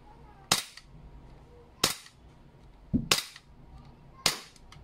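Umarex Glock 17 steel gas blowback airsoft pistol firing at a cardboard box target, four sharp loud cracks spaced about a second apart, one followed closely by a quick second shot, with no voices.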